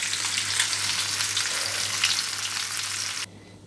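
Hilsa fish sizzles steadily in hot oil, a dense, loud, continuous crackle close up that stops abruptly near the end.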